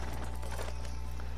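Rhythmic clip-clop of horse hooves at a trot in the video game Red Dead Redemption 2 Online, steady and fairly quiet over a low constant hum.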